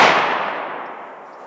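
A 16 gauge Foster slug is fired from the full choke barrel of an S&S drilling at an outdoor range. The single loud report is already decaying at the start and trails off in a long, fading echo.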